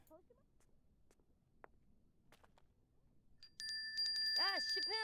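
A bell in The Sims 4 rings out near the end, a bright metallic chime with ringing overtones that follows a stretch of quiet game ambience with scattered clicks.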